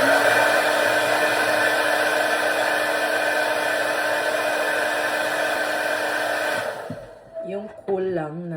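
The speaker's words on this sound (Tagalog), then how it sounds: "hair dryer ang ginagamit ko. Hindi yung mainit." A hair dryer on its cool setting blows with a steady, airy whir for several seconds, then switches off and a voice speaks.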